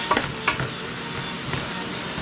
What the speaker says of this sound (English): Then I'm going to fry those vegetables.